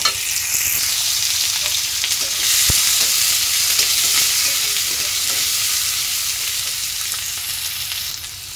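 Two pieces of fish frying crisp in a pan, a loud constant sizzle with faint spatters and one sharp utensil tap, close up, gradually easing slightly toward the end.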